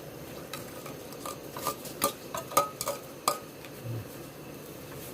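Onion goes into hot oil for pav bhaji, giving a soft sizzle under a run of sharp spoon clinks and scraping stirs against the pan, with no talking.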